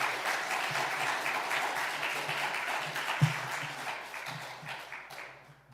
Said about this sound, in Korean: 감사, 영광, 찬양의 박수를 우리 하나님께 드리겠습니다.